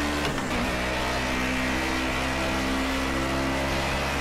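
A 1992 DTM touring car in Project Cars 2 at Snetterton drones at steady high revs, a loud constant engine tone with a brief blip near the start as it holds speed through a corner.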